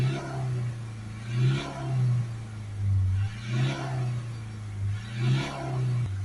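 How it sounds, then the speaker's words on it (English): A Mazda CX-3 1.5 Skyactiv engine with a flashing DPF light, held at a steady idle-like drone during particulate filter regeneration, with several quick rev spikes rising and falling in a rough rhythm, close up. "a few spike revs"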